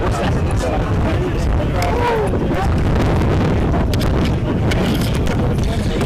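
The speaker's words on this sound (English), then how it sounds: "So the wind picking up out here again." Wind blowing across an open outdoor sports field during a Montana State vs Denver match, a steady, loud rumbling gust buffeting the microphone throughout, with no talk.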